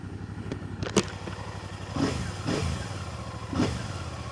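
Royal Enfield Classic 650 motorcycle fitted with a DNA Stage 2 air filter, its engine idling with a steady low rumble before several short throttle blips rise and fall in quick succession, close by with no talk.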